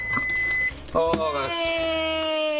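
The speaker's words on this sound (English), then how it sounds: "that's a beautiful sound. We have a microwave" An RV microwave oven sounds a sustained electronic beep tone, then after a brief knock a second, longer beep rings steadily, close and clear with a person speaking faintly around it.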